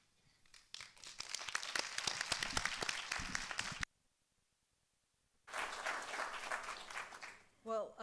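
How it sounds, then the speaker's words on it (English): Candidates at a local forum get a burst of audience applause, dense and loud for about three seconds, then a silent gap. A second round of clapping follows, and a short voice comes in at the end. "let's give all of our candidates one more round of applause, please."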